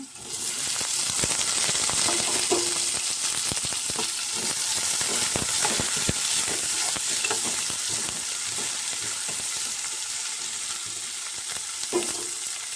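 Tomato frying in a pan for jackfruit seed curry, a loud, continuous close sizzle with scattered clicks and scrapes of stirring throughout.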